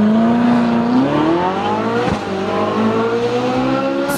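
A Ferrari 458 Spyder's 562-horsepower V8 roars loudly and close, its pitch sweeping upward and then holding a smooth, high revving tone, with a brief dip partway through.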